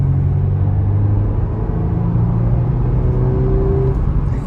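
A 2018 Audi A5 Sportback engine pulling under throttle, a steady loud low rumble with a rising whirring tone heard from inside the car, no talk.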